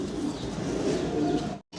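Fancy pigeons coo steadily in a close, continuous low murmur, breaking off into a brief silence just before the end.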